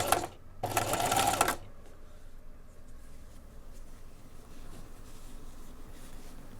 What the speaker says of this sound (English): you keep stitching, making sure that you don't stitch your bottom part